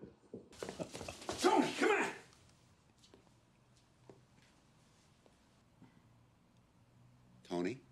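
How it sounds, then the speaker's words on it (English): A dog in the film Snatch gives a burst of loud barks and yips early on, then a short bark near the end, with quieter movie sounds in between while viewers react. "The dog got the diamond."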